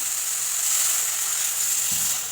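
Loud, hissing sizzle as water hits a hot pan of mushroom curry, a steady bubbling rush that holds strong throughout.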